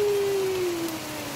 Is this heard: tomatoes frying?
no